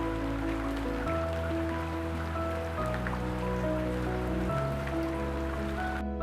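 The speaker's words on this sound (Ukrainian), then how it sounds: "А дощ все вистукує свою мелодію по підвіконню." Steady rain patters on a windowsill in a continuous, even wash of taps with no voices, close and moderately loud over a low background hum.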